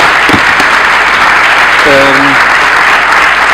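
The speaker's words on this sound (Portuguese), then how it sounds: "uma salva de palmas para os oradores" Conference audience applauding the speakers, a dense continuous wash of clapping heard up close, with a brief voice speaking over it partway through.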